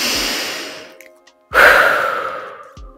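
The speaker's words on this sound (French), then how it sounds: "Prenez une bonne respiration pour vous mobiliser en soufflant fortement par la bouche." A person breathes in, then blows out a strong, forceful exhale through the mouth. The close, breathy rush fades slowly, followed by another soft breath.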